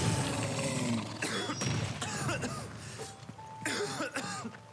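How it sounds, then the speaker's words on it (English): A character in Final Fantasy 16 gameplay coughs in short rough bursts after a fierce fight against Ultima, close and clear, with game ambience and brief voice sounds around it. "Stop coughing."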